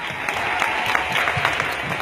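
Steady applause from a standing summit audience honoring a presidential panel, dense continuous clapping at moderate level filling the whole stretch.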